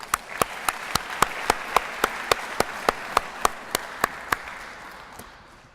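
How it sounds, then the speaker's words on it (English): Applause at an awards ceremony dominated by one nearby person clapping in a slow, steady, evenly spaced beat over faint background clapping, tapering off at the end. "we need a round of applause for that"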